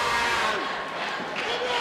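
Wrestling arena crowd at a CZW explosion match roars in steady, dense support for a wrestler, a continuous broadband wash of cheering and shouts with a few whistles rising through it, with no pauses.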